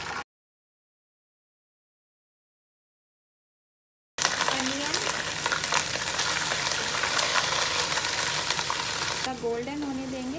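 After about four seconds of silence, ginger garlic paste for eggplant sabzi sizzles loudly in hot oil, a close, steady crackling fry with light stirring throughout.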